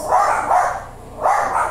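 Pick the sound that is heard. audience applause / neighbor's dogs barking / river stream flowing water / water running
neighbor's dogs barking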